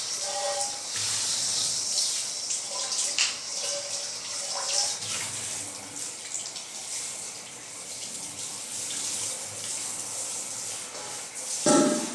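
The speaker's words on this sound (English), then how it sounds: "And then, wash this pan real quick." A pan is washed under a running kitchen tap: a soft, steady hiss of flowing water with faint clinks and splashes, fairly quiet and with no voices.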